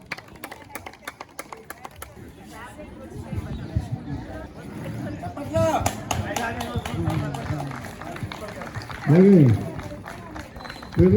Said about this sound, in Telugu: లేడీస్ చప్పట్లు కొట్టాలండి.